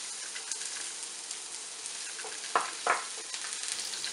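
Garlic and onion sizzle in hot oil in a pan, a steady close frying hiss with two sharper scraping stirs near the end, no voices.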